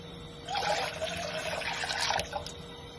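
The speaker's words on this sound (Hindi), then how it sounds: "2 गिलास इसमें पानी जाएगा।" Water is poured from a glass into a pan on the stove while making blue lemonade, a close, steady splashing trickle lasting a couple of seconds.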